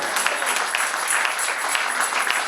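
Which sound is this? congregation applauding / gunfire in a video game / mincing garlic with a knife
congregation applauding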